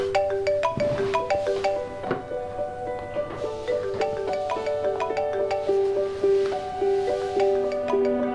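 A phone ringtone plays a repeating melodic tone pattern over and over, steady and fairly close, with no one picking up.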